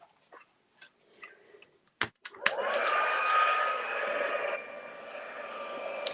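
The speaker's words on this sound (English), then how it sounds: "And let's just heat emboss that." A heat gun used for heat embossing on a card starts after a few soft clicks and taps, then blows a steady, close airy roar.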